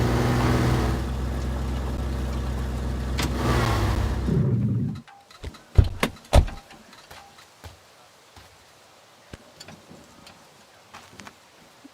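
An old car in the Teardown video game runs with a loud engine drone for several seconds, then cuts off, leaving scattered sharp clicks and ticks from the hot engine at irregular intervals in near silence.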